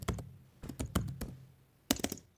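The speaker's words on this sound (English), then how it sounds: "And also the keyboard typing too." Computer keyboard typing processed to a lower pitch: a few sparse clusters of key clicks with short gaps between them, close and fairly quiet, with no voices.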